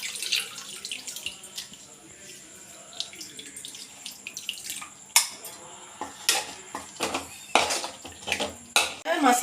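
Dissolved tamarind water poured into a pot of fish curry, with splashing and trickling liquid alongside clinks of a metal vessel, close and moderately loud.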